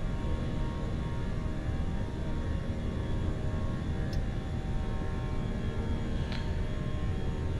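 A flight simulator airliner takes off from runway 27 right at London Heathrow, a steady jet-engine roar and hum that stays even and moderately loud throughout, with no talking.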